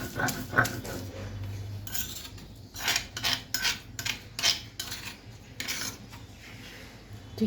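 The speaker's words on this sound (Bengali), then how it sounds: "এভাবে আমি সবগুলো চিংড়ি মাছ এভাবে বেটে নেব" Tiny shrimp being ground into a fine paste on a grinding stone, a series of rough scraping and rubbing strokes in an uneven rhythm, close and fairly clear with no talking.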